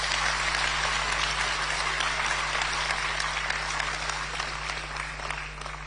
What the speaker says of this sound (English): Let's give our national chairman another round of applause.